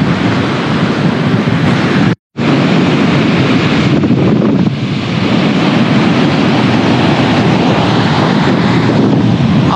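Strong sea breeze at Mandarmani beach buffets the microphone in a loud, continuous roar of wind mixed with surf, broken only by a brief dropout early on.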